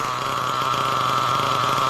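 A small nitro engine idles after carburetor tuning, giving a continuous buzzy drone that holds steady and fairly loud throughout, with no talking.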